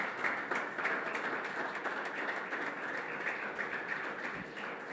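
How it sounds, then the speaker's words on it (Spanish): Church congregation clapping together during a worship service, a moderate, somewhat distant wash of applause that holds steady and fades slightly toward the end. "dale un fuerte aplauso al Señor"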